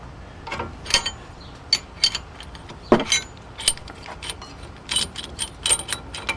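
Brake caliper reset tool being turned by hand during rear brake pad replacement on a 2001 Volkswagen Jetta TDI, giving a series of sharp metallic clicks and ratcheting ticks in irregular bursts, close and fairly quiet.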